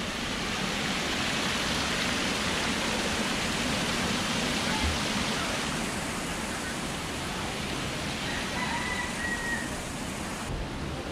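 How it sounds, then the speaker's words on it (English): Steady, dense roar of a nearby waterfall in a botanical garden in Singapore, continuous and broadband, with no clear breaks throughout. "Nice waterfall."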